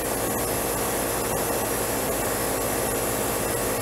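R410A refrigerant hisses as it is metered into an air conditioning system's suction valve: a steady, loud, broadband rush that runs unbroken for the whole stretch with no talking.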